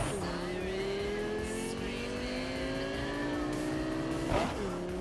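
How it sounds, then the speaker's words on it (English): A fast car races through city streets in Cyberpunk 2077, its engine holding a loud, steady whine up close, with a brief tire squeal or bump near the end. "We're gonna be racing in the city in this car"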